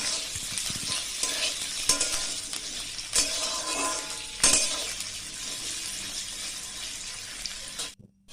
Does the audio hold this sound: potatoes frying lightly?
yes